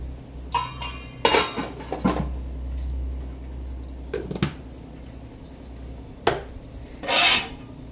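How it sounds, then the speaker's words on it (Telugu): Rice tipped into a pot for chicken biryani, with clattering metallic scrapes and clinks of a vessel and utensil in short irregular bursts over a low simmering background, close by, no talking. "మనం రైస్ వేసుకుందాం"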